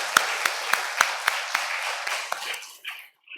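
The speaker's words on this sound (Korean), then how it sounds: "한번 이렇게 멋지셨으면 박수 한번 해주세요." A brief round of clapping from a church congregation: about a dozen distinct, fairly sharp claps in an uneven rhythm that thins out and stops after roughly three seconds, with a faint voice at the end.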